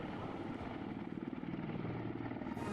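A helicopter flies over Srinagar with a steady, faint rotor chop and engine drone, continuous and at a distance, with no talk.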